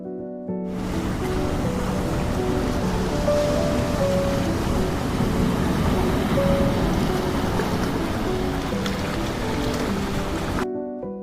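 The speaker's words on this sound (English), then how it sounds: "lies one of the most magnificent wonders on the planet, the Iguazu Falls" Iguazu Falls on the Brazil–Argentina border roars as a broad, steady wash of water, loud and constant for about ten seconds with no voices.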